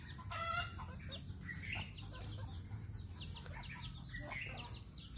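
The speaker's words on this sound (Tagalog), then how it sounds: "Dito yung mga manok ko guys, oh." Backyard chickens cluck faintly at a distance, with soft, scattered calls over a low background rumble.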